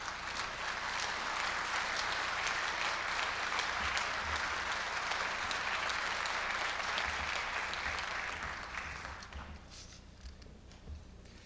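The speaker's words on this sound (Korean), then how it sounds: "큰 박수로 무대 위로 모시겠습니다." A large audience at a university president's inauguration ceremony applauds, a long, even roar of clapping that holds for about eight seconds, then thins and fades out, leaving a quiet hall with a few soft taps and footsteps.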